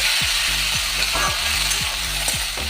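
Meat with liver pieces frying and being stirred in a pan for a Bengali meat ghugni, a steady loud sizzle under repeated scraping strokes of a spatula about every half second, with no talk.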